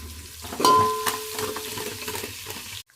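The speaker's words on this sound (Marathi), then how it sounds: "आता मी हे एक टमाटं कापून घेतलेलं आहे तर हे चांगलं गाळ होईपर्यंत आपण शिजून घेणार आहोत" Chopped tomato cooks down in a pan with a soft sizzle and a few stirring scrapes. A brief, clear tone sounds early on, and the sound cuts off abruptly at the end.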